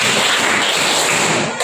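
A group claps hands together in a steady, dense burst during a teacher performance-assessment session at UIN Antasari Banjarmasin, loud and close throughout.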